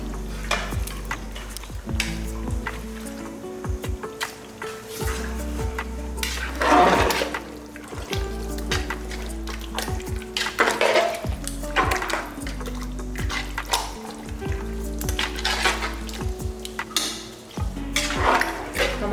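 A metal spoon scrapes and stirs mutton coated in masala in a pot for biryani, with repeated clanks against the sides and a wet, bubbling sizzle underneath.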